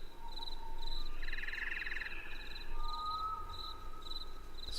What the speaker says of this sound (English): It's got the evening sounds. Get your crickets and stuff.